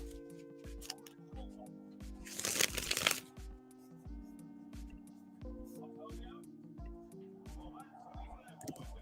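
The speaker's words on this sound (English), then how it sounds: "All right, shuffling for Nyasha now." Tarot cards are shuffled by hand in a quick riffling burst at close range, with a soft steady hum and light tapping around it.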